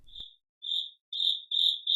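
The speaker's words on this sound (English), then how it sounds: "Crickets." Cricket chirps in repeated bursts, about five trills in two seconds, clear and fairly close against silence.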